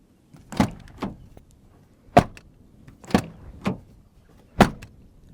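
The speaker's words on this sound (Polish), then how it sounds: "posłuchamy, czy drzwi zamykają się z należytą kulturą" A series of sharp car door thunks from a JAC T9 pick-up, six or so in irregular succession, each a solid close followed by brief quiet, fairly near with no talking.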